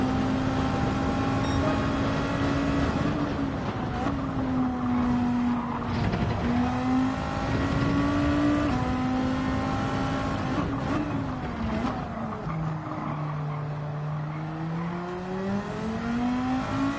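Race car engine in Gran Turismo 7 during a Nations Cup online race, droning loud and steady throughout with rising and falling pitch as gears shift, plus brief tire squeal and skidding noises, with no talking.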